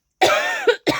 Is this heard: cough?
yes